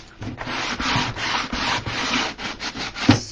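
Sandpaper rubbed over a wooden frame for a mixed media piece, in about a dozen steady back-and-forth strokes, close and fairly loud with no talking.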